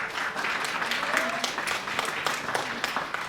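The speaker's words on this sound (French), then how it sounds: "Je voudrais qu'on les applaudisse." Hands clap in a hall at an Opłatek gathering in Nilvange as the afternoon's hosts are introduced, a fairly thin, uneven applause with distinct individual claps and some murmured voices underneath.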